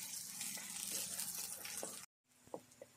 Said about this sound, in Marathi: त्याच्यात आम्ही आता आलं घालूया आणि लसूण घालूया आणि ती पण परतून घेऊया